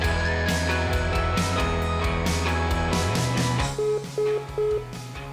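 A phone line during a prank call, first a busy mix of tonal beeps and music-like tones, then three evenly spaced ringback tones with short pauses between them, clear and close.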